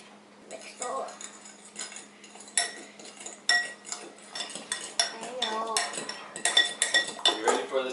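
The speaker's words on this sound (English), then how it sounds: "Mix it all up." Metal spoon clinking and scraping against a bowl as avocado and guacamole ingredients are mixed, irregular busy clatter building louder toward the end, with children and an adult talking quietly underneath.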